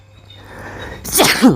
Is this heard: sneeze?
yes